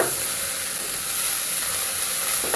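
Potatoes fry in a pan with a steady, dense, close sizzling hiss that holds evenly throughout.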